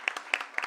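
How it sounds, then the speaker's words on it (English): An audience gives a brief round of applause for the writer Jonathan Escoffery at a literary reading, with a few distinct claps standing out in a short, light burst. "I would like to have everyone give a round of applause to Jonathan Escoffery"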